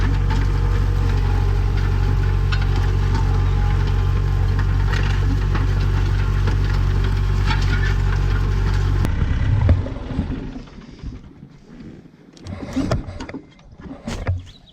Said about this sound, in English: But I've got to get on this tractor and I got to start doing some laps.